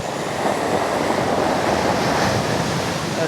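Ocean waves wash steadily onto a Jamaican beach under coconut trees, a continuous loud roar of surf with wind rumble and no voices.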